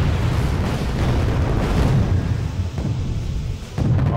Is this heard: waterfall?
no